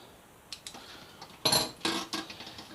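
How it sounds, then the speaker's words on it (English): A wrench tightens the brake caliper bolts on an R6 front end fitted to a Yamaha FZ6R motorcycle, giving a few quiet, sharp metallic clicks and clanks in irregular bursts with no talking. "I'm just going to kind of quickly just tighten this down with the wrench"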